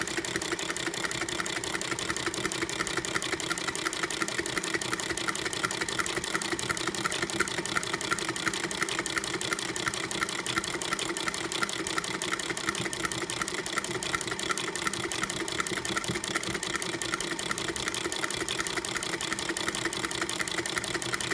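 A Singer sewing machine runs steadily with a mechanical buttonholer attachment fitted, a continuous fast rhythmic clatter and whir held at an even level from start to finish, close and alone without any voices.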